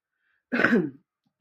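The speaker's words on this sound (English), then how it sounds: "Pardon me for the coughing." A single short cough, close and fairly loud, with silence before and after.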